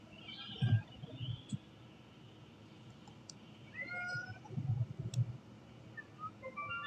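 A cat meows faintly a few times in the background while the soft chimes and ambience of the game Sky: Children of the Light play throughout.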